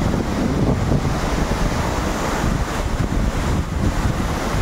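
Strong rushing water and surging waves at a scenic outdoor spot, a loud, steady broadband roar running unbroken throughout with wind buffeting the microphone.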